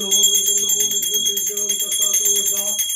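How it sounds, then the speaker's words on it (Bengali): A brass puja hand bell rings rapidly and continuously during a Guru Purnima family worship at home, its bright shimmering tone loud and close, with a voice murmuring underneath. "ঘন্টাটা মেরো, ঘন্টাটা"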